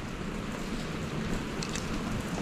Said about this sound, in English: it's a rainy day in the city